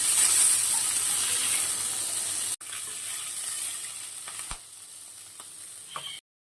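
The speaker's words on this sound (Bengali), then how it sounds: "এবার মাথাটা লেজাটা ভেজে নেব" Aar fish head and tail frying in hot oil for a Bengali jhal, a steady loud sizzle filling the clip with a brief break and a few sharp clinks before it cuts off.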